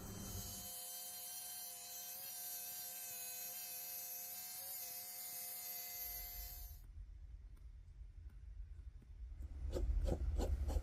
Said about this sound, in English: To the Dremel!